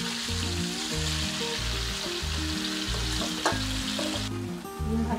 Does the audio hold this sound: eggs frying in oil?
yes